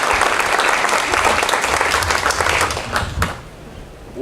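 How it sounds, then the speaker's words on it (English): A campaign forum audience applauds the candidates, a dense burst of clapping that holds steady, then tapers off into a few scattered claps. "Give all the candidates a round of applause"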